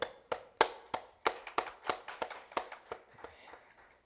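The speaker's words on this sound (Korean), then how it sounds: "예배당에 성도님이 안 계시니까 박수 소리가 굉장히 작은데" A handful of people clap in a nearly empty church sanctuary during an evening worship service, sharp separate claps in a loose, uneven rhythm that thins out and fades toward the end.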